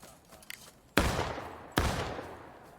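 Two loud musket volleys crack out in the War of Rights game, a little under a second apart, each blast followed by a rolling echo, with faint scattered shots before them.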